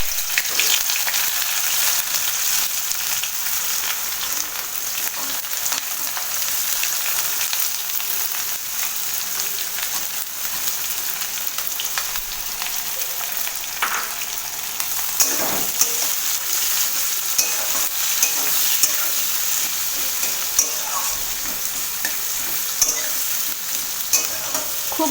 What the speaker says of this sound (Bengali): খুব অল্প আঁচে আস্তে আস্তে করে পেঁয়াজটাকে ভাজবো, বেশি ভাজবো না, হালকা হালকা ভাজা হবে।